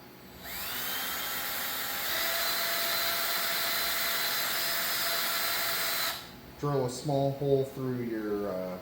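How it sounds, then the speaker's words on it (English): A high-pitched drill whines steadily for several seconds close by, drilling a small hole through a handlebar grip, then cuts off and a voice starts talking. "drill a small hole"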